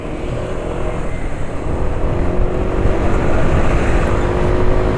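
Yamaha motorcycle engine running on Yamalube RS4GP oil, a steady, loud, smooth drone that swells slightly as the ride goes on, with no voices over it.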